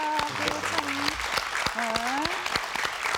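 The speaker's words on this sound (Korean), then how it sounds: "우리 박수 한번 보냅시다" A studio audience on a Korean talk show claps steadily in a dense patter, while a voice keeps speaking and singing-like tones run over the applause.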